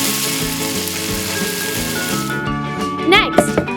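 Miniature squid sausages deep fry in hot oil, giving a close, dense crackle that thins out after a couple of seconds, followed by a few brief clinks and knocks.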